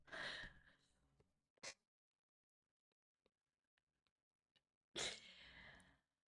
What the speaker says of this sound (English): My daughter sneezed in the next room and it scared the crap out of me